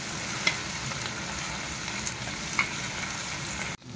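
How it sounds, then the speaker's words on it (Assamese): Onion frying in hot oil, a steady dense sizzle that carries on without a break, with a few small pops and crackles and a stir near the end. "পিঁয়াজটো ফ্ৰাই কৰি ললো আগতে গৰম তেলত।"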